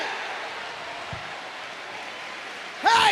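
A church congregation in Fortaleza applauds in a steady, even wash of clapping that fills the room, and a voice cuts in just at the end.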